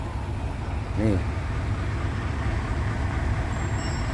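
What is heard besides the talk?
three trucks towing a trailer iso tank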